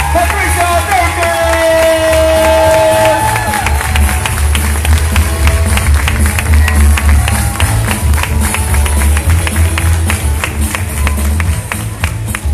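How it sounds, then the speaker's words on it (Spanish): Large audience applauding a farewell for a national executive director at a Mary Kay Peru event in a big hall, loud sustained clapping with crowd noise and music underneath throughout. "¡Fuerte el aplauso"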